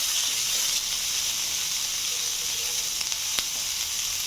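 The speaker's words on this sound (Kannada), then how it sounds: "ಇದನ್ನು ಸ್ವಲ್ಪನೇ ಶಾಲೋ ಫ್ರೈ ಮಾಡ್ತಾಯಿದ್ದೀನಿ" Onion, carrot and capsicum shallow frying in a pan for Indian-style wheat pasta, giving a steady, close sizzling hiss throughout, with a couple of brief sharp clicks near the end and no talking.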